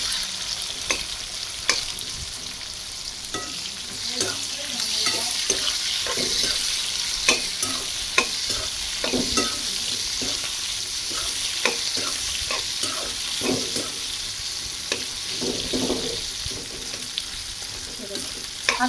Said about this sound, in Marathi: हा कांदा तेलामध्ये थोडासा फ्राय झाला ना की तो मोकळा मोकळा व्हायला सुरुवात होते.